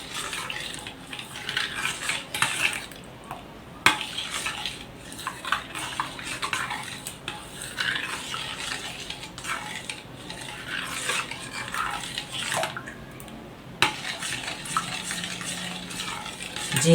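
A spoon stirs sweet yogurt lassi flavoured with Rooh Afza, giving repeated clinks and scrapes against the container in an uneven rhythm, close and moderately quiet, with no talking.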